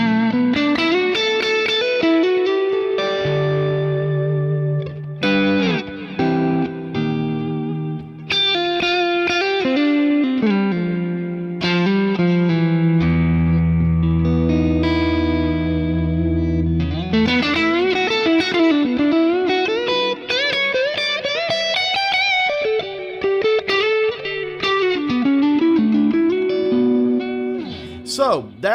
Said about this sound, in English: this first Axe Effects patch is just a basic clean tone that's very Huff inspired